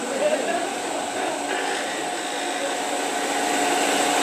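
A woodturning lathe spins fast at 3,200 RPM with a steady, high whine and hum that does not vary, while a person talks over it.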